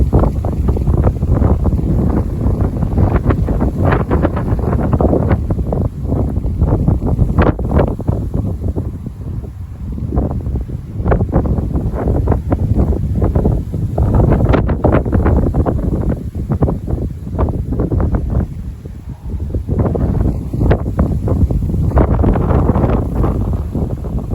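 Strong gusty mistral wind roars and buffets the microphone continuously, with rumbling surges rising and falling throughout.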